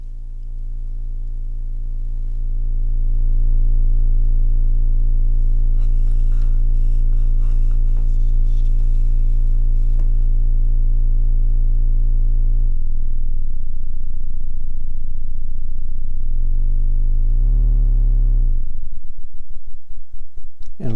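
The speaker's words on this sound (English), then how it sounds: "That be our triangle wave at a much lower frequency, which is still, however," Low-frequency triangle wave from a DIY six-oscillator 40106 synthesizer: a loud, steady buzzing drone with a dense harmonic stack, shifting pitch a few times and dropping lower near the end, alone without talk.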